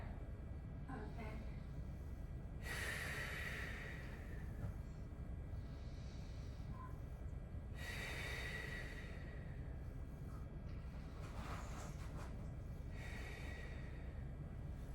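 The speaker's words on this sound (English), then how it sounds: "3 nice deep breaths here." Slow, deep breaths during a back-focused stretch, three long airy exhales spaced several seconds apart over a low steady background hum.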